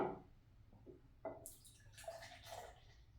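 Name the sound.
pouring Amber Ale craft beer into a glass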